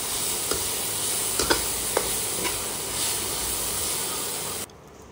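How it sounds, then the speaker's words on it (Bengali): Chicken coated in chicken masala and black pepper frying in a pan, a steady hissing sizzle with a few light stirring scrapes that cuts off abruptly near the end. "তারপর সবগুলোকে আবারও মিশিয়ে নেব ভালো করে এবং কষিয়ে নেব।"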